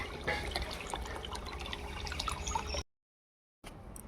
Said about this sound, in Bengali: কত সুন্দর জল পড়তেছে